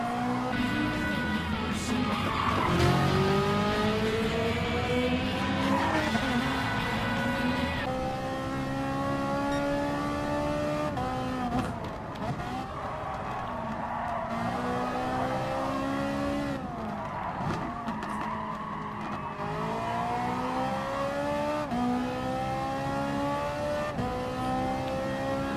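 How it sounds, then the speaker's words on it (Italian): Race cars in the Gran Turismo Sport video game rev hard through gear changes, with tires skidding and squealing, a continuous loud engine roar rising and falling through the whole lap. "L'auto dietro di noi si avvicina grazie anche alle nostre sbavature"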